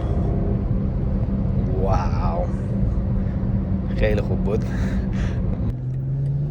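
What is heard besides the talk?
BMW car engine in sport mode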